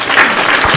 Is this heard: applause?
yes